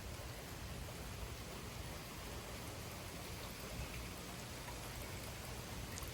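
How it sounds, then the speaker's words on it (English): Steady rain during a severe thunderstorm in Frisco, a faint, even wash of falling drops with no talking. "this rain is picking up"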